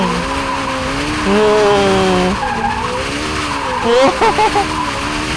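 Hyundai RN24, a light 650-horsepower electric car, drifts with long wavering tire squeals and skidding, the screech rising and pulsing near the end.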